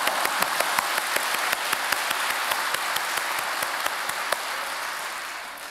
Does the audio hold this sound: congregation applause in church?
yes